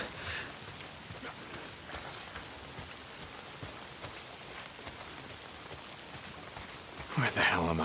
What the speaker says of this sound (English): If it's not the freaks, it's the goddamn rain.